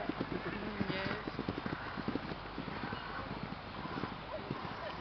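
Hooves of a small lead rein pony clip-clop steadily on the ground of a show ring at an agricultural show, a quick even rhythm heard close and moderately loud under ongoing commentary and crowd murmur.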